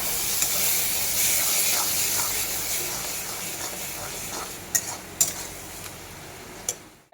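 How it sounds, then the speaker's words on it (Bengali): A spoon stirs pointed gourd seeds with turmeric and salt in a hot pan, giving a steady sizzling hiss under soft scraping and a few sharp metal clinks near the end. "আমি পটলের বীজটাকে ঘাঁটতে থাকবো, নাড়াতে থাকবো।"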